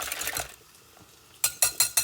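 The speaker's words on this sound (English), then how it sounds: "So I'm just going to lightly beat this till the egg white and yolk have combined." Eggs being lightly beaten in a bowl until white and yolk combine, heard as a quick burst of rhythmic utensil clicks, a brief pause, then a second run of four or five sharp taps against the bowl.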